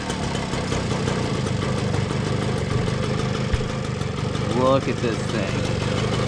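A 1984 Puch Austro Daimler moped engine idles steadily after a cold start, a loud, even, buzzing drone running throughout, while a person talks over it briefly near the end.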